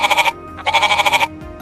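Goat bleating loudly and close in two wavering, tremulous calls separated by a short pause, each about half a second long, with no talk.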